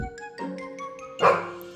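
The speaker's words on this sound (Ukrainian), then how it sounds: "Гав-гав це пес." A few short yips from a small dog in quick succession, ending in one louder bark, close and clear.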